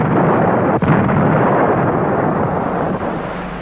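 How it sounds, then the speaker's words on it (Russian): Explosions as retreating troops blow up bridges and crossings in 1940 newsreel footage, a loud, rumbling boom with a sharp burst near the start and a rolling low-end roar that slowly fades. "противник взрывает мосты и переезды"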